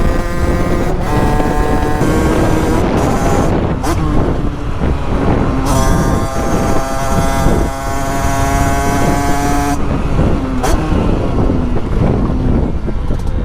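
An Italkit AM6 50cc motorbike engine revving hard, loud and close with climbing pitch and repeated throttle surges over wind noise, with brief dips between revs.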